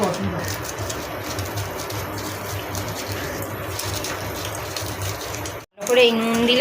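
Fried dried red chillies and salt are ground to powder in a mixer, giving a steady, loud whirring grind that runs continuously, cuts off abruptly, then briefly restarts.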